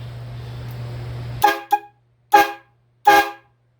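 Vevor train horn kit fitted to a 1988 Ford F-150 sounds four short, loud, shrill blasts in uneven rhythm after a steady low hum cuts off.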